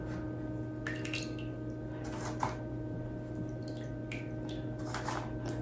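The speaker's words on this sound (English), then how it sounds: "then we'll drain off the water" Water draining and dripping from a seedling tray while starting plants, soft irregular trickles and drips over a steady low hum, fairly faint and close.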